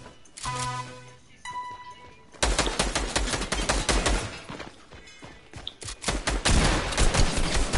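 Fortnite gunfire rings out in repeated close, loud rapid bursts, sparse at first and then a sustained dense stream of shots.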